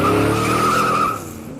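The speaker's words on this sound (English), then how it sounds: "a large car bellows down the street. It barely misses me." A large car speeds close past and skids in the horror game Alligator Pie, a loud sustained tire squeal over engine roar that cuts off abruptly and leaves a fading rumble.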